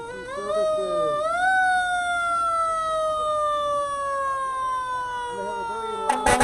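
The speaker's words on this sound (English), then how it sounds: "They have a very loud siren." A South King Fire and Rescue fire engine siren at the 2022 Waterland Parade, a loud wailing tone rising then slowly falling in pitch, close by, with a brief burst of horn or clatter near the end.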